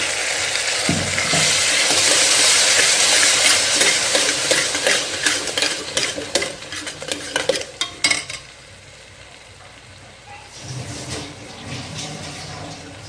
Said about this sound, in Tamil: இப்போ தாளிக்கிறதுக்கு வெங்காயம் போட்டிருக்கோம்